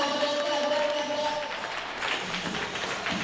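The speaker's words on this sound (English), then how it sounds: "Clap it up." A convention crowd at a live comedy show claps for itself, steady applause with cheering voices and some shouting mixed through it, moderately loud and continuous.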